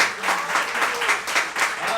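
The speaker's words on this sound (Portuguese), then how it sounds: "Dê uma salva de palmas." Brief applause rises from a church congregation during a sermon, a couple of seconds of pulsing, fairly close clapping with no voices over it.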